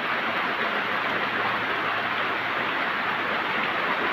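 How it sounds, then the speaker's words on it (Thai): Steady rain falls around a hut at the edge of rice fields, a dense, even hiss that continues unbroken at constant loudness with no voices. "ฝนกำลังตกนะครับท่านผู้ชม"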